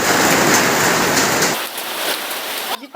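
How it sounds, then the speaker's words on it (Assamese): Hail and rain pelt down hard on surfaces during a February storm in Guwahati, a dense loud clatter that abruptly thins to a lighter patter partway through. "শিল বৰষুণ আৰু ইমান ঠাণ্ডা"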